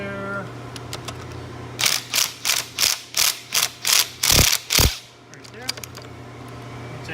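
Ratchet turning the 10mm bolt heads on a Honda Accord's coolant crossover bracket, about nine quick bursts of close, crisp clicking in a steady rhythm over a faint background hum, then quiet.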